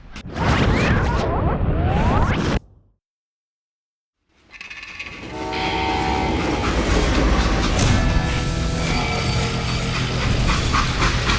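A train in the video game Call of Juarez: Gunslinger rumbles loudly, then falls silent for a moment before a steady rolling clatter of wheels on rails resumes, with squealing metallic tones overhead.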